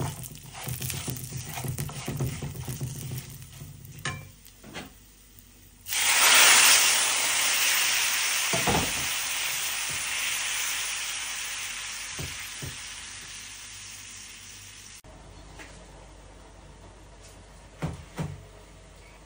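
Grated radish frying in a pan with black cumin, dried chili and black gram lentil fritters. A loud, bright sizzling hiss bursts in as it hits the hot oil and then slowly eases, with a few clanks and stirring sounds near and late.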